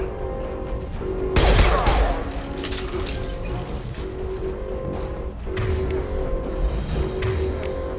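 Gunfire erupts during combat in the video game Mass Effect 2. A loud volley of shots comes early, followed by scattered quieter shots over a steady droning background score.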